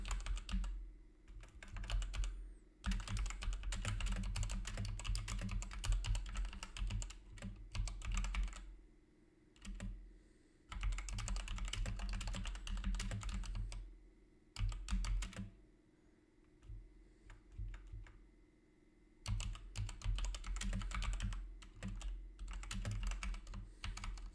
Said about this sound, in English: Also, I will just type here.